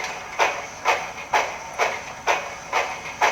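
A model steam locomotive's sound decoder gives off a steady chuff, seven evenly spaced hissing exhaust beats at moderate speed, clear and close with no talking over it.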